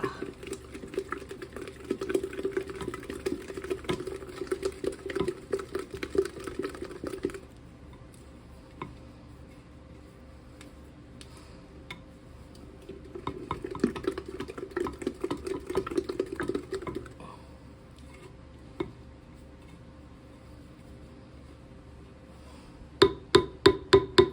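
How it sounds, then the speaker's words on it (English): Sourdough starter stirred and scraped around the sides and bottom of a vessel, heard as two bursts of rapid close scraping and tapping separated by a quiet pause, ending in a few sharp knocks. "Scraping the sides, scraping the bottom."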